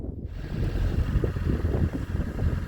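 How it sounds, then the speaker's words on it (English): A narrowboat engine runs at the marina as a steady low rumbling drone, with gusts of wind buffeting the microphone over it and no voices. "The engine is finally running."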